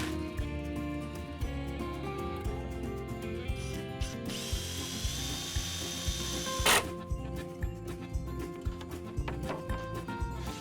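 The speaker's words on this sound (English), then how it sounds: "we're going to drive a screw here to be concealed fixing right through this tongue" A power drill drives a screw through the tongue of a solid timber cladding board as a concealed fixing, giving a close, continuous whirring with ratcheting clicks and a brief sharp burst partway through.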